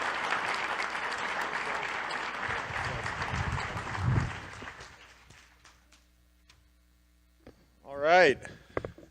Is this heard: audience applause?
yes